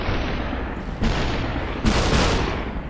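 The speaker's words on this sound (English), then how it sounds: "Automatic fire, burst mode." Automatic gunfire in burst mode in the game Superhot, a loud, dense, continuous rattle of shots with sharper bursts surging in partway through, no voices.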